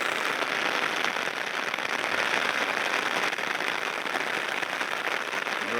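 Heavy rain pouring steadily at a campsite on the final day, a dense continuous hiss and patter with no voices, even and loud from start to end.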